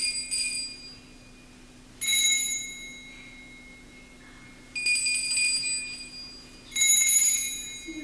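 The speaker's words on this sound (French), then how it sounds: "on va entendre maintenant des plus petites cloches" Small bells ring out in three bright, shimmering bursts separated by short pauses, each ring decaying slowly over a steady low hum.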